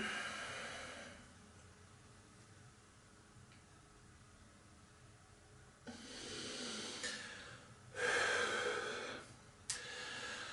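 Yoga breathing with slow inhales and exhales, soft airy breaths close to the microphone, faint at first, then several stronger, rushing exhalations in the latter half.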